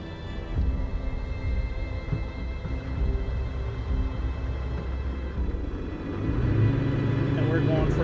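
A Ferrari F50 rumbles from inside the cabin while being driven, its engine a continuous low drone that grows fuller and louder toward the end.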